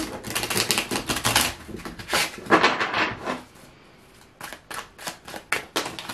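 Rapid crisp riffling and snapping of tarot cards being shuffled, coming in several bursts with a short quiet pause in between, close and fairly loud.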